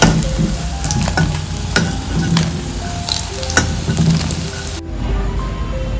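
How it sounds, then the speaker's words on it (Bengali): Boiled chana dal frying in a pan, giving a steady close sizzle with occasional stirring scrapes and clicks. No voices are heard. "আমি ডাল সিদ্ধ করে রেখেছিলাম আগে ছোলার ডাল সেটা এখন এই ভেজে নেবো"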